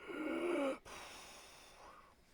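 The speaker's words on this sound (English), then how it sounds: "this way you actually hear me doing all my breathing and stuff" Heavy breathing lands close on a microphone: a long, rough exhale, then a quieter airy stretch with a soft gasp toward the end, nobody talking.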